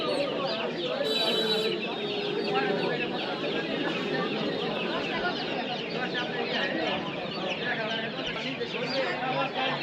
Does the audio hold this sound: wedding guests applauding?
no